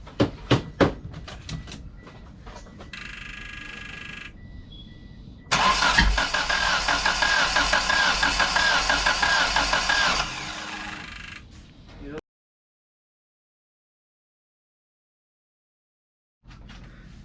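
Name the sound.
DSM car engine cranking and starting after head gasket job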